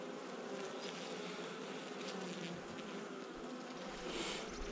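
Honey bees swarm around a hive, with a ball of bees on the ground holding the queen, filling the air with a dense, steady, close buzz that continues unbroken throughout, with no voices.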